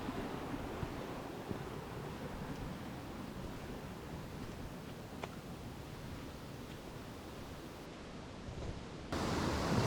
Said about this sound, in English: See just how much water is coming down through the gorge there.